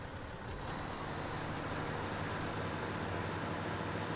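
A modded truck engine in SnowRunner starts and settles into a steady, dense idle rumble that runs on its own throughout, with no talking over it.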